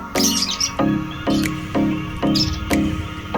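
Caged lovebirds give repeated short chirping calls in a regular pulsing rhythm, loud and near, with no talking.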